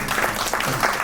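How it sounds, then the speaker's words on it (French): A brief burst of audience clapping at a meetup, a close, dense patter of hands. "On peut applaudir Betty Boop, s'il vous plaît"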